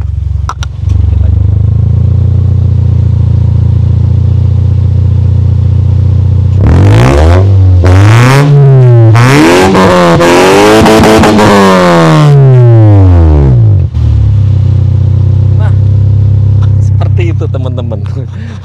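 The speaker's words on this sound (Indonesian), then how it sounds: "Terus ada knalpot double muffler kita pakai yang HKS pelangi, suaranya ciamik banget ya." A car fitted with an HKS rainbow double muffler exhaust idles with a deep, loud rumble, then is revved hard several times with rising and falling engine sweeps before settling back to idle.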